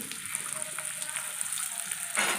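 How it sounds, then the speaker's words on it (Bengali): Potato, flat beans and carrot pieces go into hot oil with a green chilli tempering, producing a strong continuous sizzle that swells into a louder burst at the end. "এবার আমি আনাজগুলো একটু একটু করে দিয়ে দেবো"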